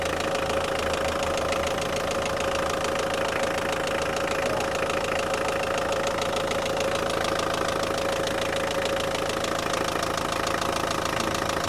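A used Mitsubishi car engine runs close by with a dense, steady mechanical clatter and drone. It is held at a constant level throughout, with no talking.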